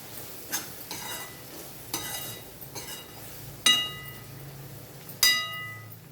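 A spoon stirs cluster bean and coconut curry with coriander powder in a pan, giving soft scraping strokes over a low sizzle, broken by a few loud ringing clinks of metal on metal.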